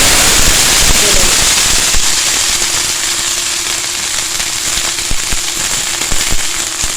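Washed kachnar buds frying in about two tablespoons of hot oil in a pan make a dense, steady crackling sizzle. It is loud and continuous throughout.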